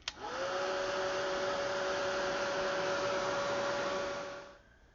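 A hair dryer blows steadily on a watercolor craft tag, clicking on and running with a loud, even whir for several seconds before winding down.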